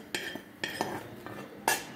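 A metal spoon scrapes and clinks against a pan as cashews roasted in ghee are emptied out, giving several sharp metallic taps and short scrapes in an irregular rhythm, close and fairly quiet.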